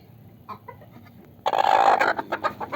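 A hen clucks and squawks loudly and close by in a sudden agitated burst after a quieter stretch of soft clucks, the calls coming in quick uneven pulses.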